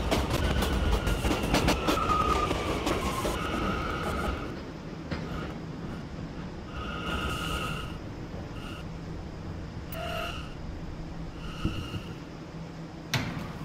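R179 E subway train in the video game PTA Subway on the Fifth Avenue Lines, a loud rumbling run that eases into quieter rolling and clicking, with brief electronic chimes and tones near the end.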